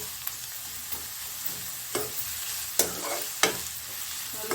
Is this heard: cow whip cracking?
no